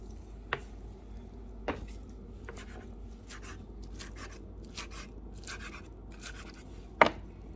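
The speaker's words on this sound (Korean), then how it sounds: "당면도 잘게 썰어주셔야 만두 만들 때 힘들지 않아요." A knife finely chops glass noodles on a cutting board for homemade meat and kimchi dumplings, with soft, irregular taps and a few sharper knocks in a quiet kitchen.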